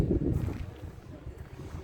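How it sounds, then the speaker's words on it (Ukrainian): Low, blustery wind high on a mountain in San Marino rumbles against the microphone in short gusts, with the buffeting strongest at the start and a steady rush continuing underneath. "тут на горі високо вітер"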